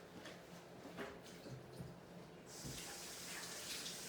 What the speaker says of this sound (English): So I'm going to go run this under cold water.